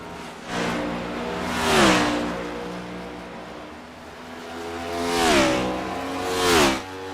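Race cars on the Watkins Glen road course passing by in pairs, engines rising to a loud whining roar as each nears, then dropping in pitch as they pull away, with a quieter gap between the two passes.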